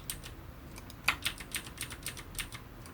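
Computer keyboard keys are pressed in a quick run of light clicks while editing in Premiere Pro, close and fairly soft over faint room hiss, with no talking.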